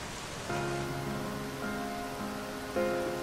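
Rain falls steadily in Final Fantasy XIII as a soft, even hiss, with sustained musical tones swelling over it, faint and calm, with no talking.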